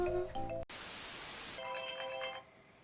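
A phone ringtone plays indoors: short bursts of electronic tonal ringing, clear and near, broken by a stretch of loud hissing static before the melody returns and fades.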